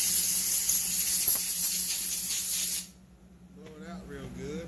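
Compressed air hisses in a loud, steady blast while blowing out a Stihl MS460 chainsaw carburetor, cutting off abruptly partway through before a voice speaks.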